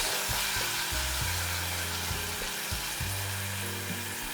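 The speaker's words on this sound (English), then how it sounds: "now we'll fry this until the tomato turns jammy" A chopped medium tomato frying in a pan for palak paneer, a steady close sizzle with a few low stirring knocks and scrapes running throughout.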